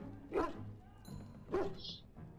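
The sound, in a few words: dog barking in video game Dragon Age Origins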